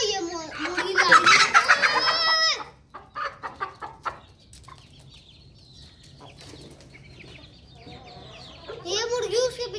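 Loud, agitated clucking and squawking bursts out as a rooster and hen fight, then drops to scattered clucks and scuffling before flaring up again near the end.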